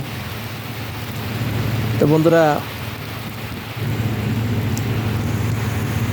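Steady monsoon rain in Bangladesh hisses with a low rumble of thunder beneath it, and someone speaks briefly partway through.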